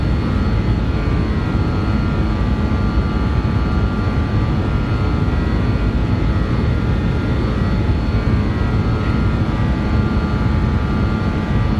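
A BAe 146 jet airliner takes off in the X-Plane 11 flight simulator, a loud, steady, continuous engine roar with no voices over it.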